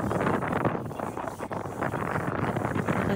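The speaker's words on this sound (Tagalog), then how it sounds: "Lakas ng hangin." Strong wind on an island buffets the microphone in a loud, continuous rumbling roar that rises and falls slightly, with no voices present.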